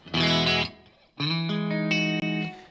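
Distorted electric guitar chords ring out with a roomy reverb-effect tail set to a medium room size, a sustained strum, a pause, then another held chord, loud and near.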